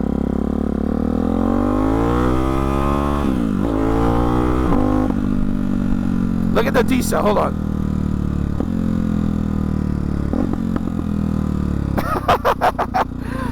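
A performance engine fitted with a Hyper 698 S1 exhaust revs and idles with a deep, rumbling note, broken by bursts of crackling pops near the middle and end, with someone talking over it.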